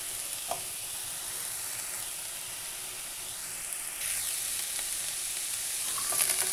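Capsicum hits a hot pan with steady, moderate sizzling and occasional stirring scrapes, growing slightly louder toward the end, with no talk.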